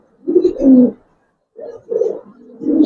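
Giribaz and coloring pigeons coo close by in low, throaty bursts, two warbling phrases, a pause, then a further run of cooing rolling on to the end.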